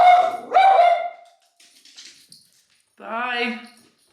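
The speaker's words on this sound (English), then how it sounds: "Look at this dog." A dog barks indoors at home: two close, loud yelping barks, then a soft whine, and after a pause a longer drawn-out howling bark.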